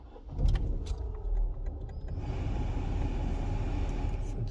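A Dacia Sandero engine cranks and catches after some keys jangle and interior clicks, then settles into a steady low idle heard from inside the car.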